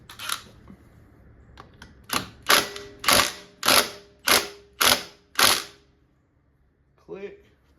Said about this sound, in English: put the torque wrench on it